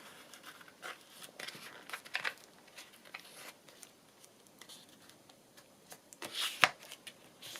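Paper being handled and folded into a paper bag journal page: soft crinkling and shuffling rustles in scattered bursts, with a sharper crisp crease near the end, close and fairly quiet.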